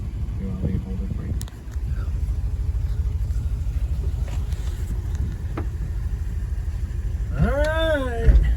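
An International Scout II, parked for 20 years, runs after a cold start with a steady, close, low engine rumble, mixed with wind noise and a short rising whine near the end.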